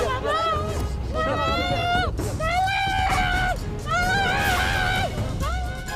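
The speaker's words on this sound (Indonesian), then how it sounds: "razia PMKS 24 Maret lalu diwarnai teriakan saat petugas gabungan menertibkan PMKS Perempatan Sunter Agung" People scream and wail loudly in repeated rising and falling cries during a raid by joint officers at the Sunter Agung intersection in Tanjung Priok, North Jakarta, with street noise and voices throughout.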